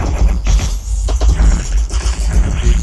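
A remixed song with the vocal removed, leaving only percussion: dense, loud, steady rhythmic drum hits and low thumps driving continuously without any voice.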